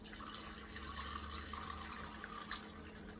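Steady pouring of warm water from a kettle into a pot, a continuous splashing stream at close range that runs the whole time without pause.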